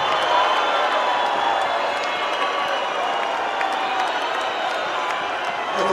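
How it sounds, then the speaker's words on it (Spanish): A large audience at a Chilean awards gala applauds and cheers steadily, dense continuous clapping with scattered whoops sustained at an even loudness throughout. "Nuestro querido Felipe se merece un aplauso"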